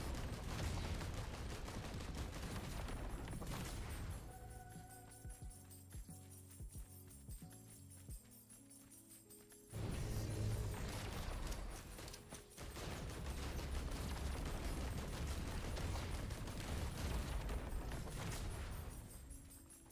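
Grenade explosions and gunfire in Risk of Rain 2 roar in dense bursts of blasts and rapid shots. A quieter mechanical stretch breaks them up before the booming barrage resumes, loud and continuous, with no talk.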